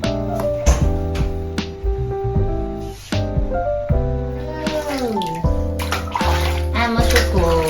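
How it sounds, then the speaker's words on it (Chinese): Water splashes and pours in a new baby bathtub during a bath, a close, continuous, sloshing wash with irregular bursts. "今天用这个洗澡澡哦。"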